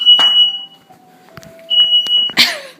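A home smoke alarm shrills in repeated loud, high-pitched beeps with short gaps, set off by bacon cooking in the oven, the chirps cutting in and out over a few seconds.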